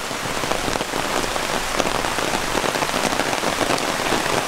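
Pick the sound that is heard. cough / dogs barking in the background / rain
rain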